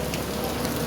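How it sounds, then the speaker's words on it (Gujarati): Heavy rain falls in Navsari on Diwali, a dense, steady hiss of rainfall over a brief stretch with no distinct drops standing out. "અને દિવાળીમાં વરસાદ પડે નવસારીમાં"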